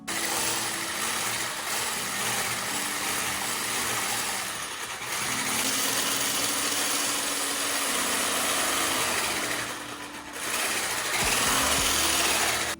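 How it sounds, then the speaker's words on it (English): An electric mixer blends powdered and granulated sugar on low speed, a continuous motor whir with rattling, briefly easing off twice before resuming. "mix on a low speed and then gradually increase your speed until it's all"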